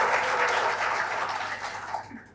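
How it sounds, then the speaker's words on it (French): Audience at a women's tax-officials conference debate applauding, a full steady wash of clapping that gradually thins toward the end. "Sous vos applaudissements encore."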